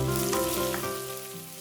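Curry leaves drop into hot oil in a pan of onions for a Kerala beef coconut roast, giving a brief close sizzle with a tonal hum underneath that fades slightly toward the end.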